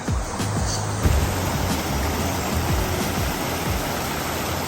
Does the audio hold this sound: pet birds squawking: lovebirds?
no